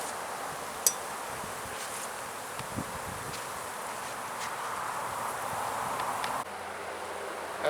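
Bees humming around an experimental hive made from two late swarms, a soft continuous buzz outdoors with occasional light clicks and rustles, faint and even, no voices.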